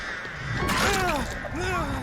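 Crows from the Artist killer's power in Dead by Daylight caw in a quick cluster of harsh, descending calls with a crashing hit, loud and close in game audio.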